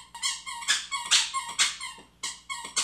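A dog chews a squeaky toy indoors, producing a rapid irregular series of sharp, close squeaks in bursts, loud and alone without talk.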